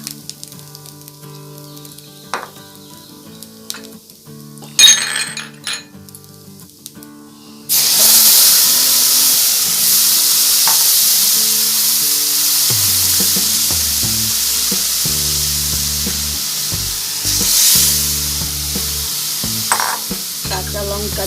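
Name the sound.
stirring chana dal with grated coconut in a pan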